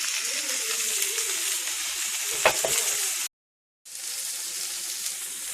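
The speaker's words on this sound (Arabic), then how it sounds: "دابا سخنات الزيت غادي نديروا البصله تطحر والفلفله والملح والابزار" Onion and peppers fry in hot oil with a steady, close sizzling hiss, broken by a few stirring clatters and then a brief silent gap before the sizzle resumes.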